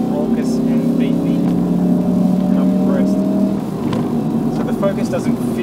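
A Ford Focus RS four-cylinder engine accelerates, a loud, raucous and beefy drone that holds a steady pitch before easing off, while a voice talks over it.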